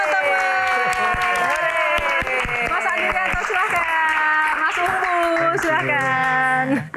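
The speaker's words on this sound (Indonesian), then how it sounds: "Tepuk tangan sekali lagi teman-teman" A crowd at a Q&A session about a solo concert applauds loudly while voices cheer and call out over the clapping throughout, ending abruptly.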